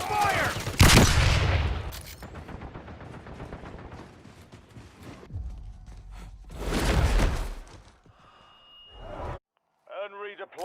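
Bursts of automatic gunfire and explosive blasts in the Warzone battle royale video game, a loud burst at the start and another volley mid-clip, with game voice callouts and effects between them.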